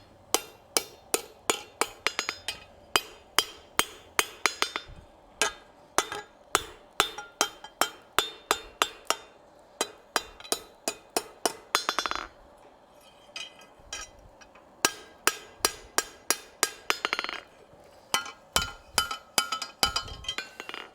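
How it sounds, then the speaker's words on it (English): Light hammer blows on hot steel held in a vise while forging a decorative hacksaw, a long run of sharp ringing metallic strikes in quick steady bursts with brief pauses, close and clear with no talk. "this is where that light hammer work at the vise is going to come back into play"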